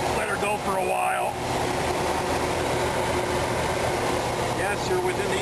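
A motorhome's engine runs steadily underneath while its transmission cooler lines are checked for leaks, a continuous low rumble with a voice speaking over it.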